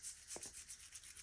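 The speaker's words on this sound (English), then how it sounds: "This is a brass wire brush, and it's a very soft one." Very soft brass wire brush rubbed over a small fuel part from a 1974 Bultaco Alpina 350 motorcycle, heard as faint, close, rhythmic short scrubbing strokes.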